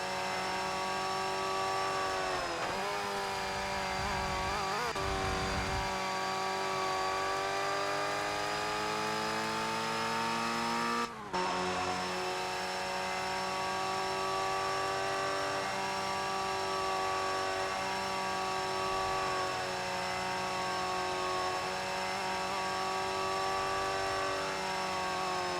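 A Formula Ford race car engine in ToCA Race Driver 3 at Silverstone, a loud sustained whine that shifts pitch through gear changes, with a brief cut near the middle and steady high revs throughout.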